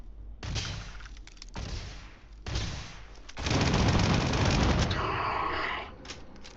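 Video game gunfire erupts in loud, broadband bursts: several separate volleys, then a dense, sustained barrage lasting about two seconds before it trails off into scattered shots.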